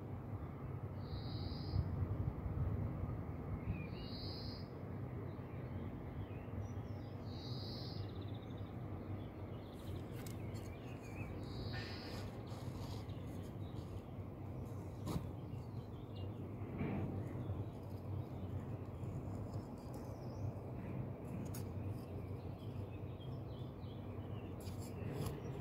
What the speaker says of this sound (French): Donc je vous laisse profiter un petit peu du chant des oiseaux.